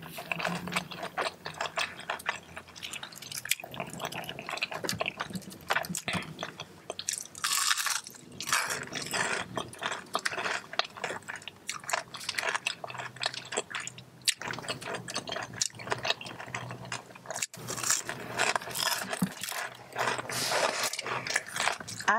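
Crunchy onion rings dipped in creamy ranch are eaten close to the mic, with loud, repeated crisp bites and chewing crunches in a steady, uneven rhythm and no talking.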